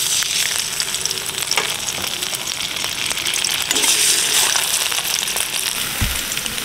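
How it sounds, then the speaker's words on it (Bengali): Singhi fish sizzle and spatter loudly in hot oil in a wok, a close, continuous crackling fry with a soft thump near the end. "এই যে তেলের উপর মাছটা দিলে তো ছিটকায়"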